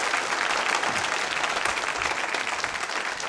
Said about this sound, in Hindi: तालियां बजा सकते हैं इस जानकारी पर भी आप